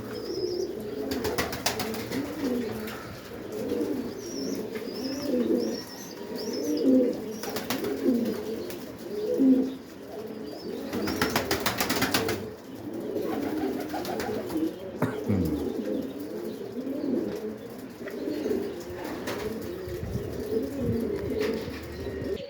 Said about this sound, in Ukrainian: І голубі.